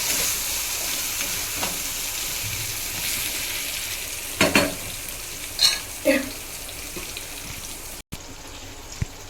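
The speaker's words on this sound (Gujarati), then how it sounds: "હવે આપણે સરસ મજાનું હલાવી અને મિક્સ કરી લઈશું" Papad vada mixture is stirred and mixed in a pan, a soft steady scraping with a few sharper clinks over a faint sizzle, close and fairly quiet.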